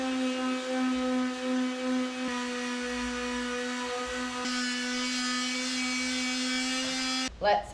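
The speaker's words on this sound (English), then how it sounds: "I'm just going to clean up the cut areas where I've used the chainsaw with my sander" An electric sander smooths the chainsaw-cut areas of homegrown timber posts, giving a steady, close, continuous motor whine that runs for several seconds, then cuts off near the end with a brief knock.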